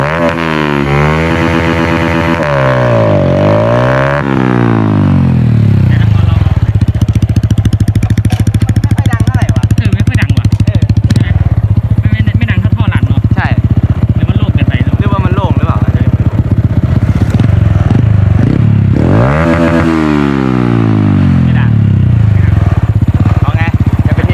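A Honda Wave 110 motorcycle fitted with a 125 exhaust pipe runs loud and close, its engine revving up and down in several rising and falling sweeps over a steady idle, with no talk.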